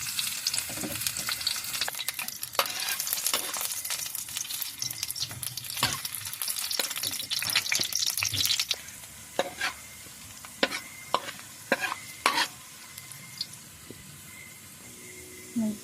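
Seasoning ingredients fry in hot oil in a wok for a misua dish, a dense crackling sizzle for about nine seconds that drops to sparse sharp pops and spatters near the mic, with no talk.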